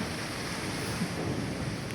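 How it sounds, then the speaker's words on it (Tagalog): Strong gusting wind roaring steadily outdoors near the sea, a broad continuous rush with slight surges and no voices. "Malakas ang hangin. Malakas siyang bumugso."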